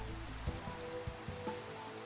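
Steady rain falls in Minecraft, retextured by the Biome Particle Weather mod, as a soft continuous patter under a quiet tonal music bed, with a few slightly louder drops standing out now and then.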